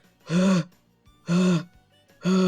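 A person imitates Donkey Kong's panting idle animation from a video game with three slow, heavy, breathy voiced pants, evenly spaced and close.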